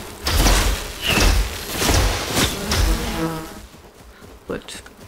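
Bees buzzing in the video game Enshrouded, a few swelling drones in the first three seconds that fade away, followed by a quieter stretch with a soft thud near the end.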